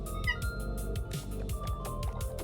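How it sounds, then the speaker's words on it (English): A small pet cat meows in a rhythmic run of short calls over continuous background game music from Minecraft, near and clear. "If you could hear that, that's my little cat."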